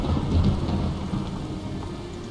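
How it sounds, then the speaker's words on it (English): Heavy rain and a thunderstorm in the video game Morrowind, a dense steady downpour with low rumbling thunder swelling early and then easing into continuous hiss, no voices. "It's pretty stormy out there."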